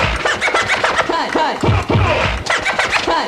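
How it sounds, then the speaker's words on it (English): A DJ scratches and double beats records across two turntables, producing quick rhythmic swipes and chopped cuts in a steady pattern, close and alone. "there's a sound that goes cut, cut, huh, huh. In other words, that's double beating."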